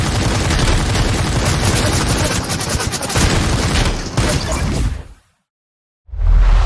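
Rapid bursts of automatic gunfire from a Vector SMG in the game Super People rattle continuously for several seconds, loud and close, then cut to silence before another blast.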